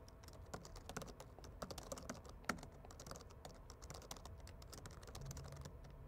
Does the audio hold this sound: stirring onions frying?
no